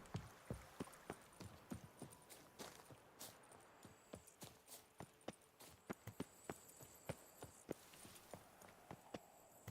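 Rhythmic clip-clop of a horse's hooves walking at a steady pace in the video game The Witcher 3: Wild Hunt – Blood and Wine, crisp and fairly close, with no voices.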